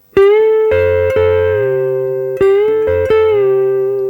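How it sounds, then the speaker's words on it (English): An electric guitar holds a steady note while a second string repeatedly bends up in pitch and releases, clear and sustained, with no voices. "you can also have one note bend with another note held."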